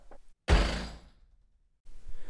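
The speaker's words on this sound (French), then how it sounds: "La porte sauta alors de ses gonds et tomba." A wooden door bursts off its hinges and crashes down in one heavy, close impact, followed by a fading rumble and near silence, with faint noise before and after.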